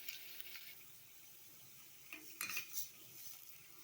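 Hot tempering is poured onto onions for a wheat adai batter, and a quiet, faint sizzle follows with a few brief splashes and clinks of utensils near the end, with no talking.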